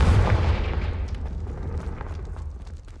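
A Confringo fire spell explodes in the Hogwarts Legacy video game, a loud booming blast with a deep low rumble that starts heavy and slowly decays over a few seconds, with no talking.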